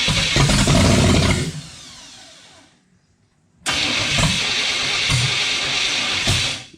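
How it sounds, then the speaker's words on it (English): A 1935 Chevy Standard Sedan street rod cranks on its starter, winds down to near silence, then the engine fires and runs loud and close with a few revs. "I think the starter sounds a whole lot better."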